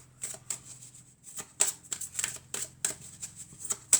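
Tarot cards shuffled by hand close up, a quick series of soft riffling flicks and taps in an uneven rhythm, fairly quiet and with no talking.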